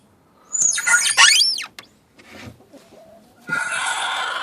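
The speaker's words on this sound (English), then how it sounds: "You're gonna hear a growl at you in a minute." A broody hen in a backyard garden makes loud, harsh clucking and squawking bursts up close, then a quieter low grumble, then a sustained raspy, breathy growl at the end.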